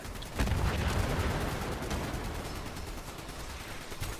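Heavy gunfire from a Fat Man launcher in Fallout 76, a loud dense barrage of blasts and booming impacts that rumbles on steadily throughout without pause.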